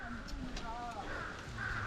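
A crow caws a few times, faint and distant, mixed into outdoor mountain ambience at Dobongsan, with someone talking quietly over it.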